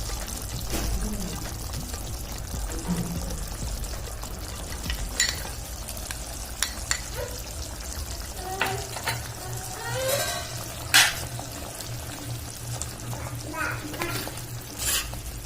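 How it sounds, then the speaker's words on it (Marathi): Cashew paste is poured into frying mutton curry and stirred in, with wet splatting, scraping stirs and pan clinks over a low sizzle. A few faint vocal sounds pass in the background. "आता आपण त्यामध्ये ऍड करूया काजूची पेस्ट"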